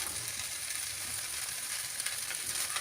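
Chicken chow mein sizzles and fries steadily in a hot pan while being tossed and mixed with sauce, a continuous close hiss with no talking.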